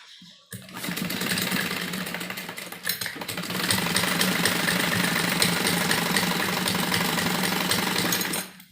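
A sewing machine stitches a folded seam on a printed kurti, a rapid, close, continuous mechanical chatter that starts abruptly, briefly dips, then runs steadily louder until stopping.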